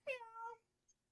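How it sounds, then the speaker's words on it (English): A single pet cat meows close to the microphone, one clear drawn-out call lasting about half a second, followed by a faint short chirp and then quiet. "William, you need to teach your cat to walk up to the mic and go"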